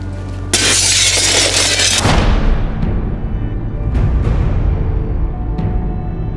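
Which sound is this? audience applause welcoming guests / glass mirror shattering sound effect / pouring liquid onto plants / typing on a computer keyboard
glass mirror shattering sound effect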